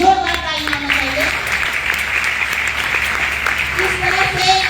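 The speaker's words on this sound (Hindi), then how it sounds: "एक जोरदार ताली होना चाहिए" Applause from an audience at a DXN meeting, a steady broadband clatter of clapping that runs for several seconds at moderate loudness while a speaker's voice continues over it.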